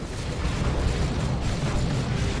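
A cannon shot destroys an Eldar Fire Prism in the strategy game Dawn of War 2, giving a dense, sustained rumbling blast that stays loud and heavy with low-end boom for the whole stretch.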